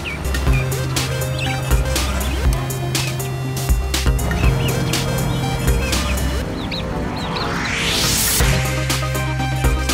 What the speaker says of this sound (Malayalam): ഇവിടെ കുറേ പക്ഷികളുണ്ട് കേട്ടോ